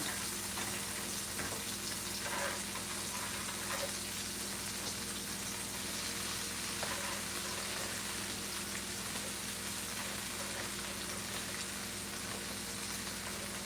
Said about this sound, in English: So let's drop our tomatoes in. Let's drop our onions in.